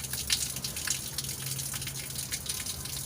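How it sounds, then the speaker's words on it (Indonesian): Water runs from a mosque tap fitted with a water-saving device, a soft, steady stream with light dripping and splashing, fairly quiet and without speech. "kalau ini keran yang sudah dipasang, bisa dilihat perbandingan kucuran airnya"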